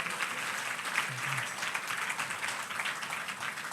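A church congregation at a New Year service claps together, a dense sustained wash of many hands applauding at a steady level, with no voices standing out over it.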